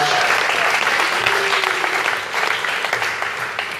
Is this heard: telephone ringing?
no